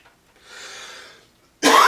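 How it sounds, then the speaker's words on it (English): A single close cough from a hobbyist working on a Warhammer 40k Blood Angels display board, short and sharp after a soft breathy exhale. "Pardon the cough."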